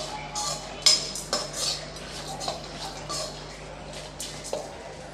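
Grated coconut sautéed in coconut oil in a pan for coconut rice, a metal utensil scraping and clinking against the pan in scattered bursts, moderately faint with a low steady hum beneath and no talking.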